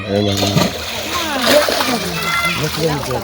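A bhetki fish splashes hard in a pond as it slips free of a net, loud close sloshing water under excited shouting voices.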